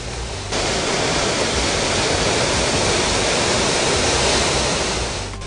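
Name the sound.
waterfall, Broketut Waterfalls in Nigeria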